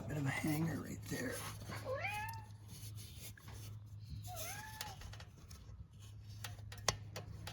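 A cat meows twice, moderately near, in a quiet workspace beside a Kawasaki ZX6R motorcycle during exhaust work, with a low steady hum and a faint tick underneath.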